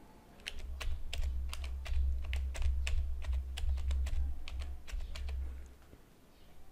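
Close, steady typing on a computer keyboard on a Windows computer, a quick run of crisp keystrokes over a low hum, with no talking.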